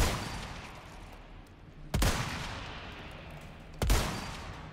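Gunshots from Resident Evil 4 Remake, two sharp loud cracks about two seconds apart over a rumbling game ambience, each followed by a brief decaying tail.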